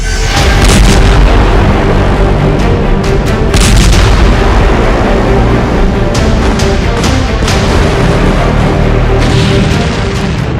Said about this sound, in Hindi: बेरूत में हुए इस धमाके ने पूरे वॉर जोन की तस्वीर बदल दी है